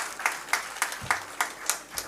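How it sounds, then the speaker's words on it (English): Audience applause for mentors at the TECHgium 2024 finale, heard as a steady, evenly spaced run of about eight distinct claps, moderately loud and close, with no talk over them. "A big round of applause for even the mentors who supported at the background"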